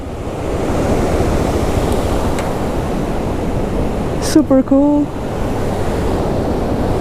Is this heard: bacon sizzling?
no